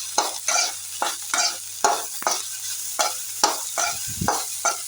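Broccoli fries in a pan as turmeric and chilli powder are stirred in, with a quick series of loud, close scraping stirs in an even rhythm over a soft sizzle.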